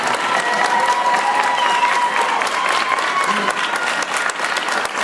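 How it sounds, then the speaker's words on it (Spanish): A crowd gives an ovation, with loud, sustained applause filling the space close by, a few cheers rising over the clapping and faint voices beneath it. "Una ovación, por favor."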